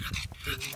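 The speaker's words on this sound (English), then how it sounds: "Yes, he is the pug." A pug dog gives a brief, faint whimper, a couple of quick whining yelps over less than a second, close by and alone.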